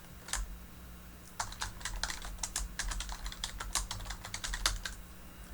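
Typing on a computer keyboard, close and clear, with a single keystroke followed after a pause by a steady run of quick, uneven clicks in a quiet room with a low hum underneath.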